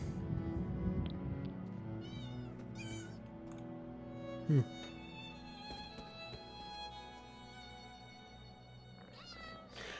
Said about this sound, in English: there's just a bunch of cats